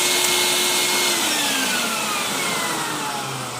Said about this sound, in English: I'm going to turn my my vacuum on.